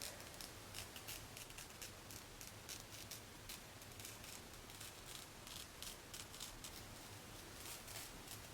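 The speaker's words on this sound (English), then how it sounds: "I'm just going to go ahead and cut off the lace." Scissors snip away the lace on a wig, giving a steady run of quick, faint crisp cuts close by with a light rustle beneath.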